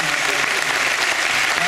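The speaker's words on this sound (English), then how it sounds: "would you please give a big round of applause to Quack for coming." Audience applause at a live concert at Cayamo, dense steady clapping from a crowd that fills the whole clip.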